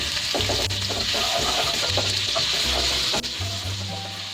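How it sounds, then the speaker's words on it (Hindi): Ginger garlic paste fries in hot oil for orange chicken, a loud dense sizzle held steady throughout with faint stirring knocks underneath. "अब इसमें मैं डाल दूंगी 1 टेबल स्पून अदरक लहसुन पेस्ट। इसे थोड़ा सा फ्राई करेंगे"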